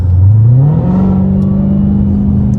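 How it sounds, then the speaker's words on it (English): A 707 hp supercharged Dodge Challenger Hellcat Widebody accelerates hard from close by, its engine note rising in pitch and then holding a loud, steady drone with a whirring supercharger whine over the exhaust. "I don't dislike the supercharger whine, but I like to hear the exhaust more than the whine"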